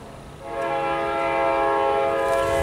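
A CP railroad train passes close by while its horn sounds a loud, sustained chord that swells in after a quieter start and holds steady to the end, with rumbling rail noise beneath and wind in the background.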